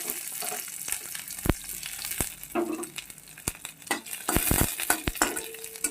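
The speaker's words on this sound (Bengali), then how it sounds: "এইবার কড়াইতে আমি একটু তেল বসিয়ে দিয়েছি কটা রসুন ভেজে নেব" Garlic cloves fry in hot oil in a wok (kadai), giving a steady close sizzle broken by sharp clicks and scrapes of a spatula stirring against the metal.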